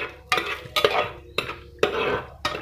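Cardamom, cinnamon and bay leaf being stirred in a hot pan: a spoon scrapes and clatters against the metal in several distinct strokes, with a soft sizzle between them, close and moderately loud, no talking.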